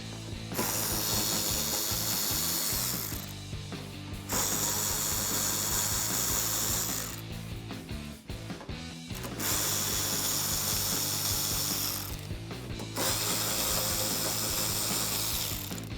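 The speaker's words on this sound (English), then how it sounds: "I'm gonna use my 8mm socket to remove some of the screws here on the inner wheel well" An 8mm socket on a ratchet backing out inner wheel well screws on a 2019-2022 RAM 1500, a fast continuous ratcheting whir in three long bursts separated by short pauses, close up and alone.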